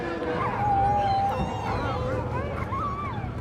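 Sled dogs at an outdoor dog sledding demonstration in a city, several dogs yipping, whining and howling in rising and falling wails over a constant murmur of crowd and background noise.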